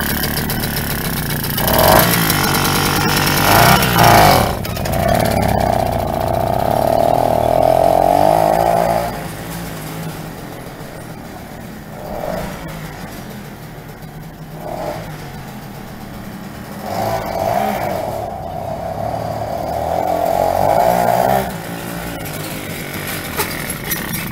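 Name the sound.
Komár 2 moped engine running during a ride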